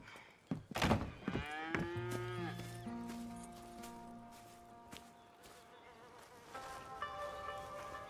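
Cattle mooing on a farm in the video game Red Dead Redemption 2, several long, loud moos near at hand over a steady background of buzzing flies and insects, with no talk.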